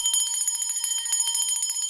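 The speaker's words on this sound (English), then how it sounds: "I'm gonna ring the bell to anchor that energy" A single bell struck during a spiritual grounding ritual rings out clearly, its bright metallic tone shimmering with repeated rapid strikes and sustained high overtones, close and alone with no talking.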